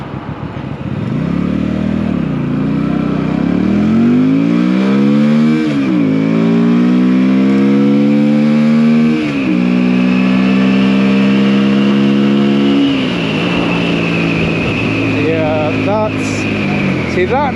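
A Keeway 302 V-Cruise motorcycle accelerates hard, its engine note climbing in pitch through several gears with brief dips at each shift, loud and continuous, with wind rushing underneath.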